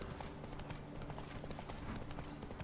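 Horse hooves galloping in The Witcher 3: Blood and Wine, a quick, steady clip-clop rhythm at moderate volume, with faint game ambience beneath.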